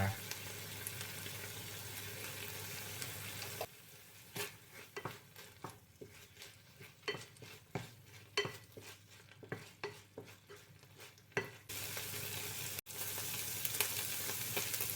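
Pork with chili, garlic and oyster sauce is stir-fried in a pan, with a loud steady sizzle at the start and end and a middle stretch of rhythmic spatula scrapes and clinks against the metal.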